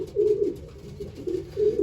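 Racing pigeons sit in a nest with newly hatched young, giving soft, low, repeated cooing calls in a slow rhythm, close and fairly clear, with no talking.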